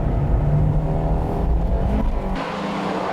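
Honda Integra Type R DC2 cars racing on a circuit make a loud, close engine drone that holds steady, then dips in pitch and volume as a car pulls away near the end, with no talking.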